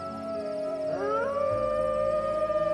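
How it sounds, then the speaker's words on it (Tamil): A dog howls in one sustained, wavering wail that bends upward partway through and holds for nearly three seconds, loud and close, with no one talking. "நாய் வேற ஊல விடுதே"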